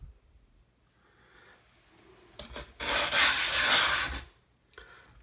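A Washita sharpening stone is rubbed flat with granite powder grit, giving short gritty scraping strokes that swell into a loud, rough rasp for about a second and a half before fading, close up.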